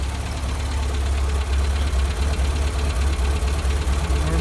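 A 1974 VW Baja Bug's air-cooled engine runs steadily while warming up, with a loud, close, lumpy idle and a continuous rhythmic putter throughout and no one talking.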